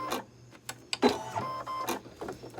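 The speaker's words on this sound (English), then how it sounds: "I'm going back, and I'm going to have it stitch again" An embroidery machine stitches an elf design onto a sweater, giving brief mechanical whirs and a few sharp clicks and thumps over a low steady hum.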